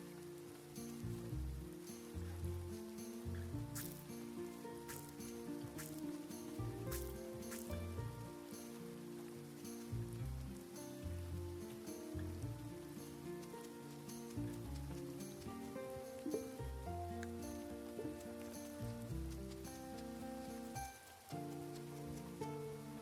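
Rain falling in the farming game Grimshire, a soft, steady patter beneath gentle melodic music that plays throughout.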